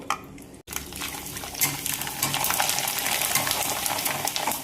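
Papad is dropped into hot oil, and a loud, steady sizzling and bubbling of deep frying builds up, with the crackle continuing throughout.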